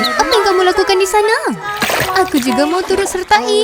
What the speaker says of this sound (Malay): Kok aku dengar bunyi percikan?